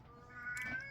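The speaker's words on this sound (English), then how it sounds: "That's my cat." A pet cat gives a single short, faint meow, rising briefly near the end of a quiet indoor moment.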